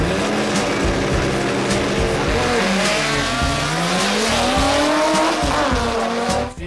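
A carbureted drag racing car engine without turbo or nitro roars loud and continuous, pitch sweeping up and down under hard acceleration with tire squeal, close and dominant throughout.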